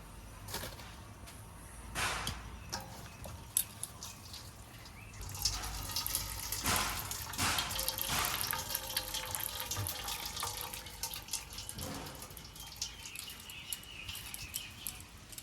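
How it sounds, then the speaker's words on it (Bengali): Water from cooked taro greens is poured off into a basket, making faint, intermittent splashing bursts and trickles while birds chirp softly in the background. "এখন আমি জলটা ফেলে দেওয়ার জন্য এই ঝুড়িতে নামিয়ে দেব।"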